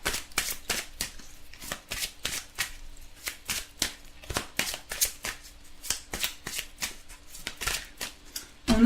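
Oracle cards being shuffled and drawn for a daily reading, a quick run of crisp riffling slaps repeating steadily and close, with no voices.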